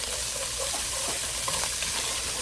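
Taco meat frying in a pan at home, a steady close sizzle with soft crackles and pops throughout, no voices.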